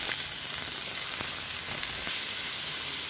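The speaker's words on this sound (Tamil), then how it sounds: "இன்னும் வெங்காயம் வதங்கட்டும்." Onions sizzle and fry steadily in a pan while being cooked down for a spicy chutney with green chilies, a close, continuous crackle with a few brief stirring scrapes.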